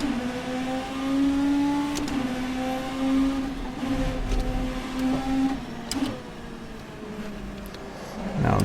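V8 GT race car at Le Mans in a racing video game, the engine note climbing steadily in pitch, dropping at gear shifts and climbing again, loud and continuous with no talking.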